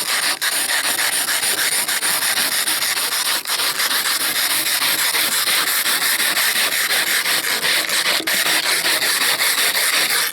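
Continuous, close scraping of residue off a surface with a hand scraper under light pressure, a harsh, even rasping rhythm running without pause, with a couple of brief breaks in the strokes.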